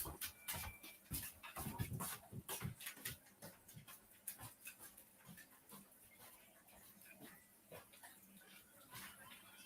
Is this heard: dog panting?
yes